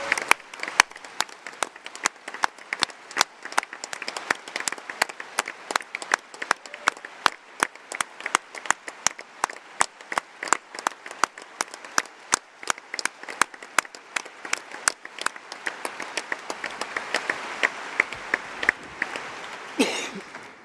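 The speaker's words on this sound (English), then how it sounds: "please can we have a very well-deserved round of applause for the venue, security, staff, our stewards" Audience at a Labour Party conference applauds in a large hall, a sustained, dense patter of many hands clapping that swells slightly toward the end, with no speech over it.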